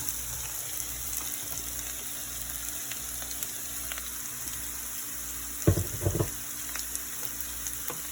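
Mushrooms going into a hot pan for mushroom biryani start a steady, close sizzle of frying. A brief louder burst of crackling and stirring rises midway, and no voices can be heard.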